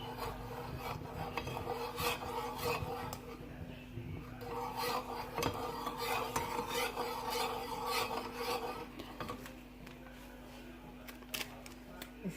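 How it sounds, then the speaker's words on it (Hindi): Icing sugar is stirred into a donut mixture in a bowl, giving faint, repeated rasping scrapes in an irregular rhythm that continue steadily with no talking. "इसे हिलाएंगे।"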